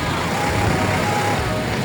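Dense street traffic in Santa Ana rumbles loudly and continuously from nearby, a low engine drone with steady road noise and no distinct passes, and a voice is faintly mixed in.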